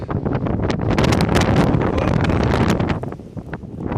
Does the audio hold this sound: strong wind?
yes